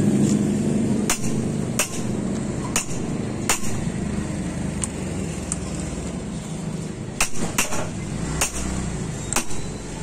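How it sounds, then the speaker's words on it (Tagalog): A manual impact driver is struck by a hammer to loosen tight screws on a Motorstar Star X 155 motorcycle engine during disassembly: about a dozen sharp, loud metallic blows land at uneven intervals over a steady background hum. "itong impact drive na to sa mga mahigpit o matitigas na mga tornilyo o screws"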